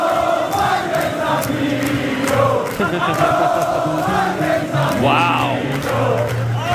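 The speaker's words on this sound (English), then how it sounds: "he's in Scotland, and the crowd starts chanting." A crowd in Scotland chanting together, loud and sustained with a steady rhythmic swell throughout, one voice briefly exclaiming over it near the end.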